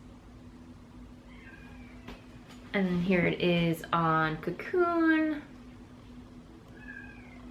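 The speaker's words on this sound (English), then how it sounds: "My cat's howling in the background." A pet cat howls nearby in a run of several drawn-out, wavering yowls lasting a few seconds, with a person speaking quietly before and after.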